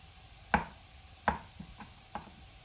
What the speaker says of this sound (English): And now I can cut my potatoes.